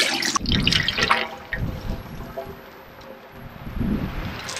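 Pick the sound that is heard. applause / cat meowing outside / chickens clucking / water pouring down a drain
water pouring down a drain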